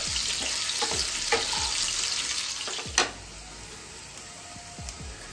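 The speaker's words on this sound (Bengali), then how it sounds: "এরকম হালকা লাল করে আমি আলুগুলো ভেজে তুলে নিলাম।" Potato pieces fry in hot oil with a dense, crackling sizzle, broken by several utensil clicks and a louder knock midway as pieces are moved or lifted; close and steady with no talk.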